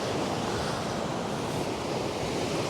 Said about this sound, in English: Water all breaking in there.